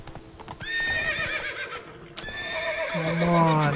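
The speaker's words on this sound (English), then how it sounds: "I seriously don't understand what the problem with this horse is." Roach, the horse in The Witcher 3 video game, whinnies twice in long, shrill, wavering calls while its hooves clip-clop steadily underneath, loud and close, with a lower drawn-out neigh near the end.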